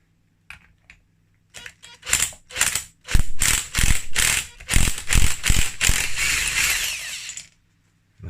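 Ratchet wrench loosening the clutch centre nut on a 2003-2011 KTM 85 SX engine during teardown, a series of loud, close clicking ratchet bursts in quick strokes, stopping abruptly near the end.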